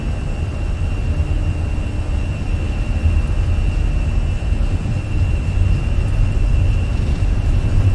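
Airbus A320 jet engines at takeoff power in a flight simulator, a steady loud broadband roar with a deep low rumble and a faint high whine, continuous throughout with no voices.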